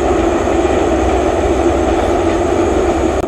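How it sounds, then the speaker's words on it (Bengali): A large train passes in front of a village house in rural Bangladesh, a loud, steady roar and rumble that holds unbroken for several seconds, close by and dominating everything else. "আমাদের বাড়ির সামনে দিয়ে ট্রেন যখন যাচ্ছিল এই ভিডিওটি ধারণ করা।"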